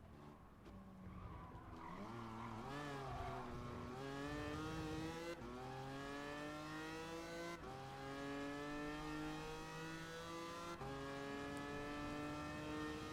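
A Dodge Challenger's engine roars through Gran Turismo Sport, rising and falling in pitch as it shifts through gears, with steady loud revving and tire squeal, and no talking.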